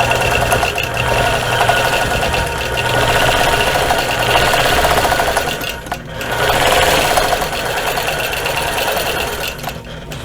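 A sewing machine stitches in the ditch along a quilt, a steady, loud mechanical whir that runs continuously with only a brief pause partway through.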